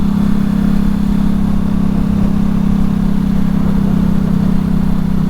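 A 2010 Ducati Hypermotard 1100 Evo engine drones steadily and loudly while riding, a constant low-pitched rumble mixed with wind noise throughout, with no talking.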